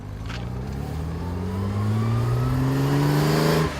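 A 1958 Lister Knobbly racing car's engine revs up in one rising, continuous roar, loud and close, climbing steadily in pitch before cutting off abruptly.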